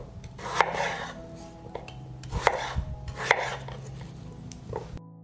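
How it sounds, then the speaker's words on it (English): A knife chops through large raw potatoes on a cutting board: four or five distinct, fairly loud thuds spaced unevenly, with light scraping between strikes. "I will cut up 5 large potatoes."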